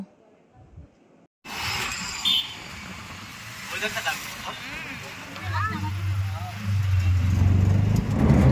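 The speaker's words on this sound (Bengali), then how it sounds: "আমাদের অটো চলে এসেছে, এবার অটো করে আমরা চলে যাব।" An auto rickshaw riding along a road in hilly coastal country: after a short quiet start, engine and road noise rise and build steadily while passengers talk over the ride.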